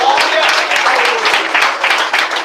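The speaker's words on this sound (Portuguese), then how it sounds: "Vem, bate palmas" A church congregation claps hands together in a dense, loud, continuous patter, with a voice faintly present beneath the clapping.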